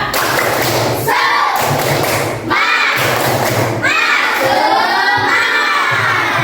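A group of children does a rhythmic spirit clap, clapping in loud bursts and shouting together in chanted phrases, repeating the pattern several times.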